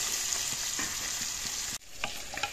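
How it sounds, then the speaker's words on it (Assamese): Fish fries in a pan with a dense, even sizzle and faint stirring taps, then the sound drops abruptly and resumes more quietly with a few light knocks. "ইয়াত মাছখিনি 3 মিনিট সময় ভাজিলোঁ"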